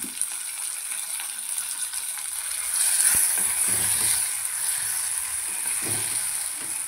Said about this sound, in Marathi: कांदे आपले परतून झालेले आहेत. आता आपण टोमॅटो टाकून घेऊ.